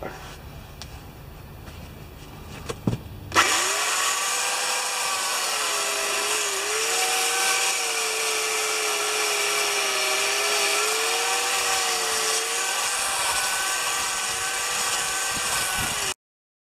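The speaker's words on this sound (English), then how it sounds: "you guys have heard of chainsaw carving" A chainsaw roars steadily at close range as it cuts wood to mount an anvil, its engine pitch wavering up and down, after a brief quieter stretch with a few knocks at the start.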